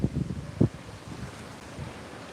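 Wind blows outdoors under a clouding rainy-season sky, buffeting the microphone with a steady rush broken by a couple of low thumping gusts.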